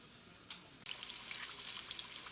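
Fleischkuekle, hamburger meat wrapped in dough, frying in a pan, giving a steady close hiss and crackle that starts abruptly and continues without talk.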